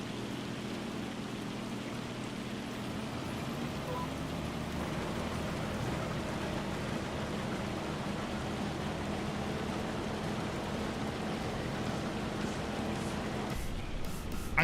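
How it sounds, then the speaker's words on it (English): Hail falling in the farming game Farming Simulator 25, heard as a steady dense hiss of pattering impacts that runs continuously at even loudness with no talk. "I think it's the sound of the hail."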